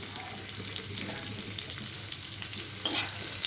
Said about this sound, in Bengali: এবার পাঁচ ফোড়ন দেবো, একটু পাঁচ ফোড়ন আর একটু পেঁয়াজ দিয়ে দিচ্ছি।